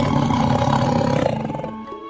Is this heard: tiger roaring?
yes